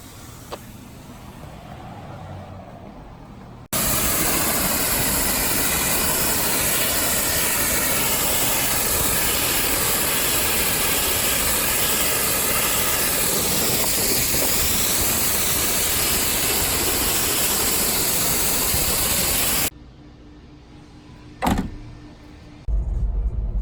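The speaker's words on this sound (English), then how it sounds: "I'm gonna do the floor mats with the high pressure hose though right now." A loud, steady hiss of a high-pressure hose spraying car floor mats runs continuously for about sixteen seconds, then cuts off, leaving quiet background noise.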